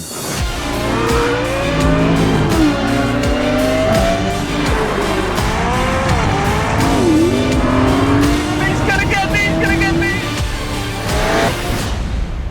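Aston Martin DBX and Lamborghini Urus SUVs drag racing, with loud continuous engine roar, revving and rising gear pulls, plus bursts of tire squeal, close and sustained throughout.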